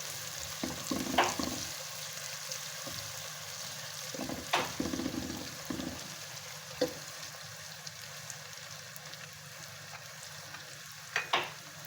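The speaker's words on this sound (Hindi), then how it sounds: "अब हम इसमें लहसुन अदरक भी डालेंगे। इसको भी सौते करेंगे इसके साथ।" Garlic and ginger sauté in a pan for a minced-meat and potato dish, a quiet, low sizzle broken by several sharp clatters and scrapes of stirring spaced through the stretch.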